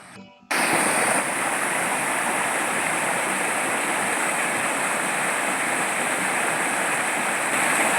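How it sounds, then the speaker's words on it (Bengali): Dungri Falls pours down from its upper ledge in a loud, continuous rushing roar that starts abruptly after a short quiet moment and holds steady and close throughout. "ডুংরি বইছে, একদম ওপরের স্তর থেকে ডুংরি নেমে আসছে বেশ সশব্দে"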